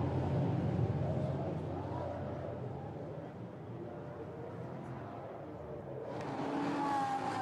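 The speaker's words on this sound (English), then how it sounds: "Great noise these cars make, of course." Lamborghini Super Trofeo race cars racing toward turn one at Barcelona, a faint, distant blend of engine roar under continuous commentary, growing louder with a rising whine near the end.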